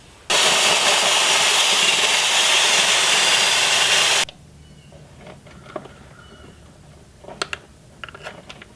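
Power drill opening up a hole in a vehicle engine bay for a battery cable, one loud continuous burst of about four seconds that cuts off sharply, followed by faint clicks and handling sounds.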